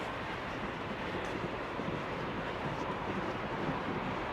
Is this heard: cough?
no